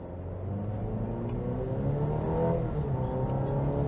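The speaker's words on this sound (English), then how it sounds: "Let's see how quick this 2-liter accelerates." A 2025 Cadillac CT5 Sport with a 2-liter engine accelerates hard from inside the cabin. Its steady engine drone climbs in pitch through the run, with no talking.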